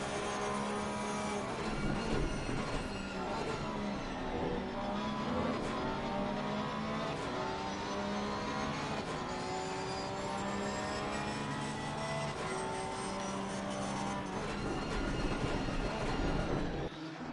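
Sim-racing cars at the Zolder circuit, a dense, steady roar of several engines with gliding, overlapping notes that rise and fall together, with no talking.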